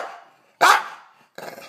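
An English bulldog, upset about not being allowed on the bed, lets out a loud, sharp bark, followed after a short pause by a second, softer bark-like burst.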